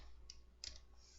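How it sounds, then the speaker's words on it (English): Computer keyboard keys are pressed twice in a very quiet room, each a light, faint click about a third of a second apart. "hit P on your keyboard."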